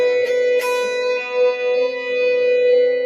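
Electric guitar played through effects sounds a ninth interval. Two plucks at the start leave a single ringing, reverberant tone that sustains and slowly wavers for three seconds, with no talking.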